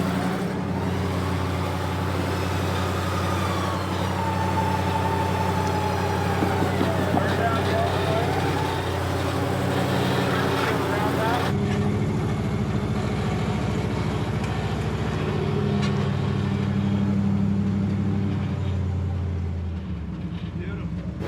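A truck engine, started and running in drive with the brake held, idling steadily at close range as a continuous low rumble under intermittent talk; the tone shifts partway through.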